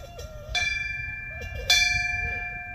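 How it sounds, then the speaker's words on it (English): A metal bell is struck twice, each hit ringing out clearly and lingering with a long shimmering tone in a quiet space. "And then on the other side, they have this bell here."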